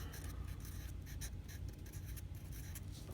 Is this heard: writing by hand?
yes